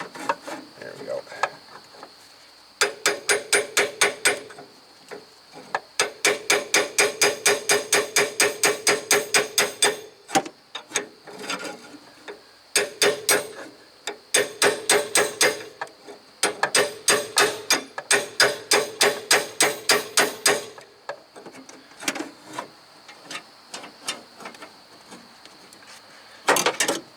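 Hammer tapping on the intermediate steering shaft of a 2007 Toyota Tacoma 4x4, worked between the brake lines: bursts of rapid, close metallic taps in quick rhythmic runs, separated by short pauses.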